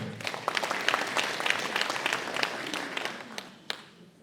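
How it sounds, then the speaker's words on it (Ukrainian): An audience at a village brass band concert applauds to welcome a humorist performer, a lively burst of many hands clapping that thins out and softens over the last second. "Зустрічайте оплесками."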